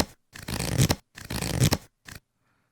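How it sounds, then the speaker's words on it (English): Card fan sound effect from a casino game sound pack: two quick riffling bursts of cards fanning out, each about half a second long, followed by a short final flick, crisp and close against silence. "Card Fan 1."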